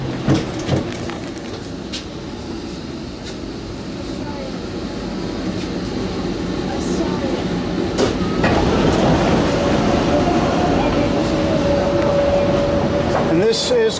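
Inside a driverless Copenhagen Metro train, a rumble of the cars builds and then holds steady with rail clatter. A tonal whine rises as the train runs into a station.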